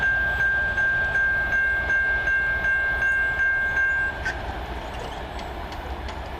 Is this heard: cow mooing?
no